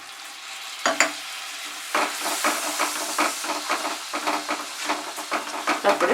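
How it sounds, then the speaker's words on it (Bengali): Spice paste for a Bengali katla fish curry, with a little sugar and water added, hisses in a pan as repeated close scraping stir strokes build into a rhythmic sizzle. "তারপরে মশলাটাকে আমি কষিয়ে নিচ্ছি।"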